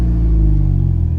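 A 2.2 litre Vauxhall VX220 engine rumbles at close range, low and loud, settling into a steady idle that runs alone without voices.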